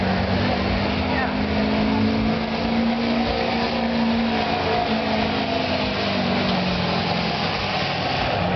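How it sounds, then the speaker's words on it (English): Modified street truck engine at a county fair, held at a steady, sustained rev with a strong low-pitched drone throughout, loud and close, with crowd and voices faintly mixed underneath. "There's your basic street truck. He's doing a good job. Got her pumped up a little bit."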